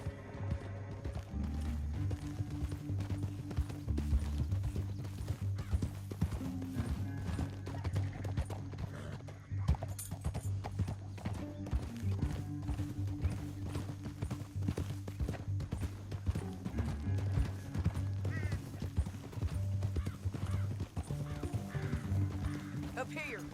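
Horses gallop in the video game Red Dead Redemption 2, with steady, continuous clip-clop hoofbeats running through the whole stretch under a dense soundtrack.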